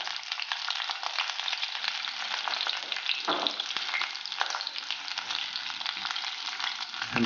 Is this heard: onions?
yes